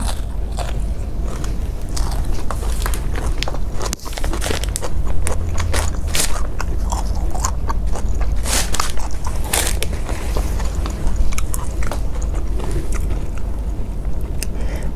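Crisp, crunchy bites and chewing of fresh cha-om greens eaten with spicy blue crab papaya salad, heard close up in a steady run of snaps and crackles with no talking.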